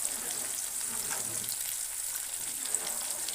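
Pumpkin slices fry in a pan with a steady, close crackling sizzle that holds evenly throughout, with no voices over it.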